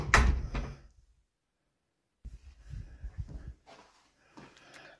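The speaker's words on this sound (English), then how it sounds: "I'll just shut that. I'll shut the main door." A solid Spanish main door in a villa swings shut with a loud thud at the start, followed by silence and then quieter shuffling, knocking and handling noises, with no voice heard.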